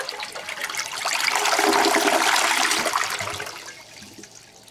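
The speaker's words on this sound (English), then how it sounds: "They say never to flush Q-tips down the toilet." A household toilet flushes with Q-tips dropped in the bowl, a close rushing surge of water that builds, peaks, then drains away into a softer trickle.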